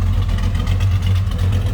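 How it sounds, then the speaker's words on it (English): A 1967 Chevrolet Chevelle Malibu V8 idling warm, its exhaust a steady, deep low rumble heard close and loud, with no speech over it. "Nice little deep throaty growl to it."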